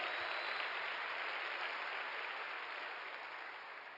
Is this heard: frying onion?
no